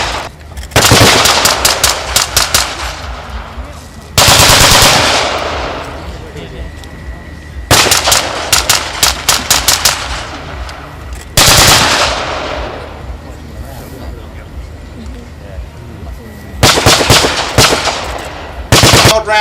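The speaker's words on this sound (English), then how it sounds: "Odd rounds of sniper fire from the VC." Bursts of blank gunfire crackle through a Vietnam War mock battle reenactment at a military show outdoors, loud rapid machine-gun volleys and single shots repeating in clusters every few seconds.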